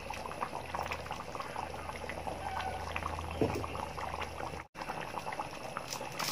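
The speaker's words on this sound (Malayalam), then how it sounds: "ഇനി നമുക്ക് ഇതിലേക്ക് കുറച്ച് പച്ച വെളിച്ചെണ്ണ ഒഴിക്കാം." Mackerel curry simmers and bubbles in a pot as a little raw coconut oil is poured in, a steady soft boiling burble close by with a brief liquid pour and no talking.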